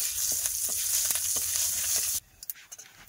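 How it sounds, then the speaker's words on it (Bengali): Panch phoron spices and a dried red chili sizzle hard in hot oil in a wok, a loud steady frying hiss for about two seconds that cuts off sharply, followed by a few faint scattered pops. "কড়াইতে আবার তেল দিয়ে দিল। তেলের মধ্যে দেওয়া হলো 5 ফোড়ন, একটা শুকনো লঙ্কা"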